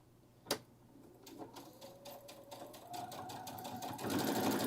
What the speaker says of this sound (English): And we could sew that other line.